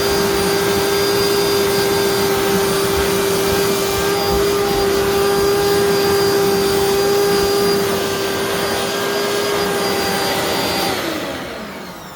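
A 1995 Dirt Devil Impulse vacuum cleaner with an edge wedge on the hose drones loudly and steadily with a high whine on a couch, close by, running continuously before easing off slightly at the end.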